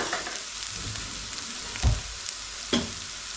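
Chicken sizzles steadily in a pan, a soft continuous frying hiss with two brief louder knocks partway through, no voices.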